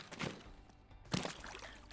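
Wading steps through shallow water in the Escape From Tarkov underground offices on Reserve, two splashy sloshing surges about a second apart, moderately close and fairly quiet, with no talk over them.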